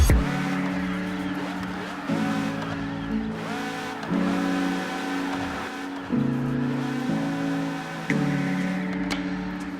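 In the mobile game Car Parking Multiplayer, a rear-wheel-drive car drifts with a repeated pattern of engine revving that surges and falls about every two seconds, alongside tire squeal, moderately loud and with no talking.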